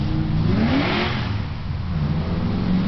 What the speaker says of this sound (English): Oh, that was a motorcycle, huh?